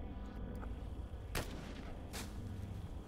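Two sharp aimed gunshots in the tactical strategy game Xenonauts 2, each a brief loud crack about a second apart, over a steady low background hum.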